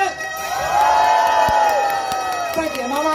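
A crowd of children and adults at a weekend band performance in Tainan, Taiwan lets out loud, sustained shrieks and cheers together, swelling and then easing over a few seconds, with high squeals ringing above the mass of voices.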